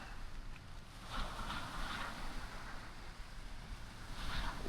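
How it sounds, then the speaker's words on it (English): Rough, wind-driven waves wash and break steadily along the Lake Erie shore at Geneva, Ohio, with gusty wind buffeting the microphone; the surges swell at intervals over a constant low roar. "Water's a little rough, isn't it?"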